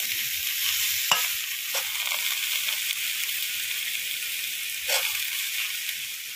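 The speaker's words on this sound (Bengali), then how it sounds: "কচু শাকটা আমি সব কড়াইতে দিয়ে দিয়েছি আর এভাবে হালকা ভাবে নাড়াচাড়া করলেই কচু শাক থেকে জল বেরিয়ে যাবে" Taro leaves are stirred in an iron wok for a hilsa-head taro-greens dish, giving a steady moist sizzle with a few sharp utensil scrapes against the pan and no talking.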